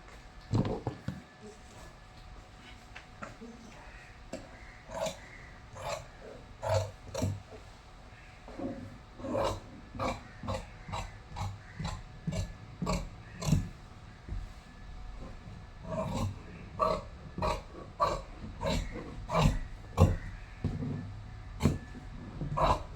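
Scissors cut through churidar top fabric with a steady series of crisp, close snips, spaced irregularly and growing more frequent toward the end, with no talking.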